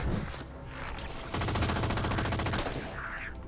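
Rapid automatic gunfire from a weapon in the video game Halo 4, a steady rattling burst that grows louder partway through and continues for several seconds before tapering off.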